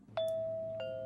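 A doorbell in a Death Note anime episode chimes twice, a clear ding-dong with two bright tones struck less than a second apart, each ringing on.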